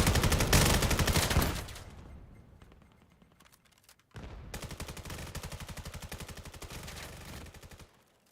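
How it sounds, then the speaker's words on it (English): Automatic and rapid gunfire from the VR shooter game VAIL during a competitive match: a dense burst of shots, a quieter lull, then another sustained rattling volley, loud and close with no talking. "some shots erupting over the top"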